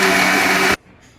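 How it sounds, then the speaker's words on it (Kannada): A mixer grinder blends ripe mango into a milkshake, a loud, steady whirring motor run that cuts off abruptly partway through, leaving quiet room tone. "ಈಗ ಇದನ್ನೀಗ ಮಿಕ್ಸಿಯಲ್ಲಿ ರುಬ್ತೇನೆ"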